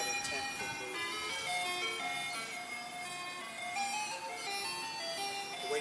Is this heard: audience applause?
no